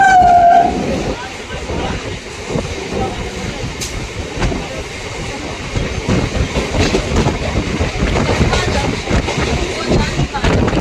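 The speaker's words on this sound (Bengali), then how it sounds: "আমাদের ট্রেন এই মুহূর্তে পৌঁছালো লিলুয়া স্টেশন" A local train pulls into Liluah station, near and loud, with rumbling wheels and clacking over the rails and a brief horn at the start. Someone speaks over the steady train noise.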